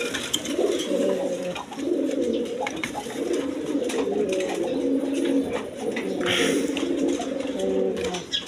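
Bombay pigeons at a pigeon sale coo repeatedly and close by, soft throaty calls rising and falling in overlapping bursts, with faint background talk.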